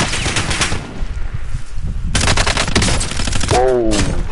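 Call of Duty Warzone gunfire rattles in dense, loud automatic bursts, breaks off briefly, then resumes, with a voice speaking near the end.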